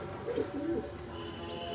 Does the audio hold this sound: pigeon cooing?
yes